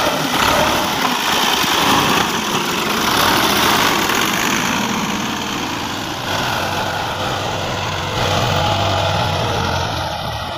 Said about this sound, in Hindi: ये ट्रैक्टर वाला